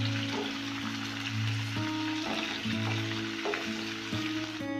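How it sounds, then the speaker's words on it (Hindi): Cauliflower fries in hot oil in a pan, a steady close sizzle with soft, regular scraping and stirring knocks every half second or so, no voices. "इस तरह से लगातार चलाते हुए फ्राई कर लेंगे।"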